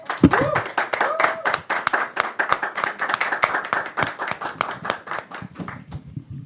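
Audience applause sending off a guest at a Spanish-language Catholic faith talk: steady, close clapping from a small group, with a voice briefly heard at the start, fading out near the end.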